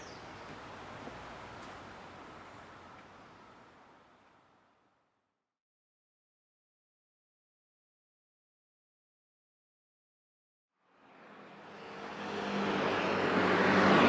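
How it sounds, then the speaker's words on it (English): Traffic on a bridge beside a scooter lane in Taipei, a rushing roar of passing vehicles that fades out into silence for several seconds, then swells back up loud and close. "Pardon the noise, the traffic. I'm right next to the good old scooter lane."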